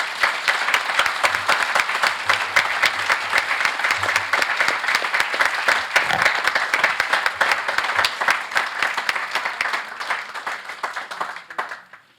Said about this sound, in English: everyone please join me in one more big round of applause